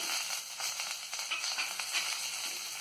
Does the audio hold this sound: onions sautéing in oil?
yes